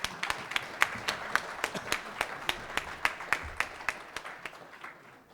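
Rhythmic clapping, a steady beat of hand claps from a small group, fairly close, gradually thinning out toward the end.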